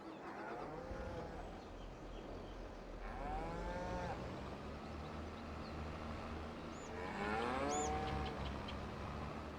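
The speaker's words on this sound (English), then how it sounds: "Put some cows in." Cows in the Farming Simulator 22 video game moo several times in long, drawn-out calls over a steady background hum, with one higher chirp near the end and no talking.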